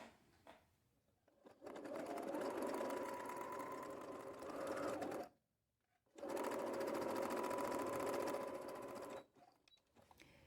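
A sewing machine zigzag-stitching lace embroidery onto fabric for a cloth doll, two close, loud bursts of rapid mechanical whirring and needle rattle separated by a brief pause.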